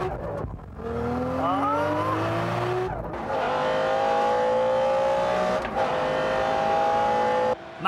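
A 1995 McLaren F1 GTR race car engine revs hard and climbs through the gears, each upshift briefly cutting the roar before it builds again, loud and close.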